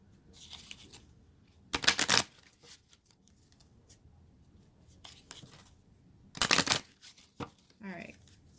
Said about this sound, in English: Shuffle these up really well.